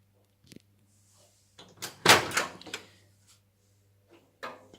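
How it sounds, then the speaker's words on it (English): A Beko microwave door being opened, a sharp latch click followed by a brief cluster of clunks and rattles, with a couple of quieter taps before and after, close and indoors. "The door open button is easy to use also."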